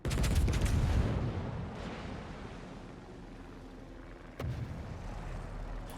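Secondary battery guns on the Bismarck fire in World of Warships, first as a loud rumbling barrage that fades into a lingering roar, then a sharp new blast near the end.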